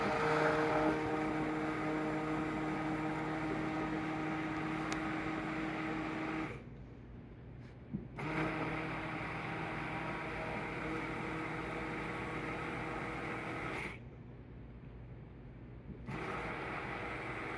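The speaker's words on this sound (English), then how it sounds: "Now I'm going to use immersion blender." An immersion blender whirs steadily while it emulsifies ganache for a gateau Opéra, with two short pauses where the motor stops before it starts again.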